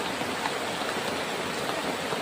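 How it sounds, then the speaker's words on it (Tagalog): Heavy rain pours outdoors in a dense, steady hiss, loud and unbroken throughout with no voices. "Grabe yung ulan tol."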